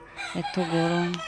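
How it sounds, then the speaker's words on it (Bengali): A neighbour's rooster crows nearby in a drawn-out, rising-then-sustained call, loud and clear over a brief spoken remark about the heat. "আমাদের পাশের বাড়ির মানে মোরগ ডাকছে"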